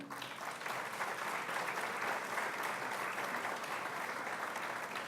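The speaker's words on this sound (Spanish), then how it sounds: "Fuerte el aplauso." Audience applause at a university inaugural lecture ceremony as a gift is presented, a steady, dense wash of clapping from many hands lasting the whole stretch, moderately loud and even.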